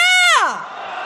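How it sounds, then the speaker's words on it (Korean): A crowd at a street protest march lets out a rising, then falling group shout, loud and close, sliding down in pitch and trailing into a murmur within about a second. "윤석열 탄핵에 대한 함성 시작!"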